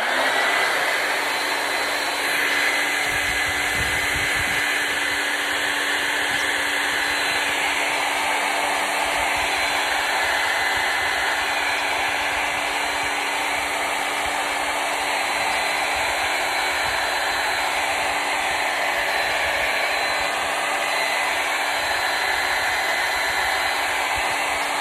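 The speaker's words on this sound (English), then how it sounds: "probably gonna do one more hair dryer time" A hair dryer runs continuously at close range, a loud, steady broadband whoosh with a faint motor whine that stays unbroken from start to finish, with no talking over it.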